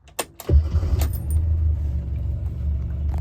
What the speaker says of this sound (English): we will go ahead and give her a warm start again. Make sure we are out of gear, and she will fire up